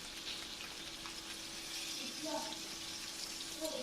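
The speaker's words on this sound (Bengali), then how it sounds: "এভাবে আমি ভালোভাবে লাল লাল করে আমি ভেজে নিব মাছগুলো" Fish frying in a pan until browned, a faint steady hiss and crackle running throughout, with a voice talking softly over it.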